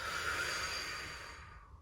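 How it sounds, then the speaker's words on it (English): A long open-mouthed exhale during a beginner's plus-size yoga standing flow at home, a single breathy rush of air that fades out over about two seconds, close and alone with no talk. "Nice big inhale in through the nose, filling up chest, filling up belly, taking up space. And open mouth, exhale."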